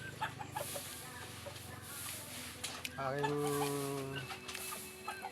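Hens and a rooster fed in a backyard cluck steadily nearby, with one longer drawn-out call rising midway, while a person talks over the birds.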